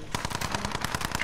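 Automatic gunfire in the battle royale Call of Duty Warzone. A quick, evenly spaced string of about ten shots each second rattles out at moderate loudness, with no talk over it.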